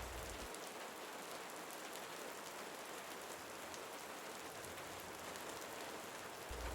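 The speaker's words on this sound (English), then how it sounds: "the quiet, steady rhythm of rain that asks nothing of you" Steady rain falls on a surface outside a desert bed and breakfast at night, making a faint, even hiss that runs without a break and with no voices.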